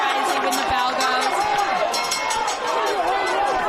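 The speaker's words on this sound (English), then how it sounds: "The crowd is going crazy when the bell goes." A large crowd roars steadily throughout a track mile race as a 15-year-old runner chases a sub-four-minute time, with a commentator talking loudly over the constant noise.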